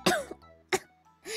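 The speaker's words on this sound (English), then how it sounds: "Yumina, who's having a coughing fit. It's as if she forgot how to breathe right." A female character named Yumina coughs in the game Yumina the Ethereal: three short, harsh bursts spaced across the moment, fairly close and clear, with no other sound around them.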